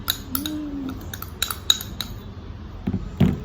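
A spoon clinks and scrapes against a bowl while mixing semolina cake batter, with a few sharp taps and clatters spread irregularly over quiet kitchen background.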